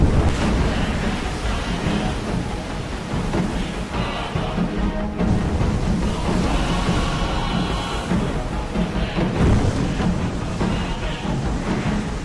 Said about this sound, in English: Powerful waves keep sweeping its efforts away.